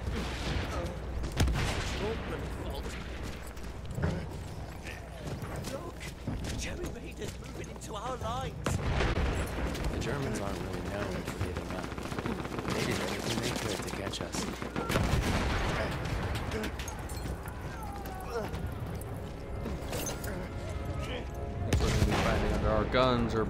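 Artillery and mortar fire in the video game Battlefield 1 thunders in repeated heavy booms and blasts amid steady gunfire, loud and continuous, with a player talking over the barrage.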